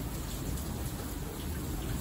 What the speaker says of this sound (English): it's raining OD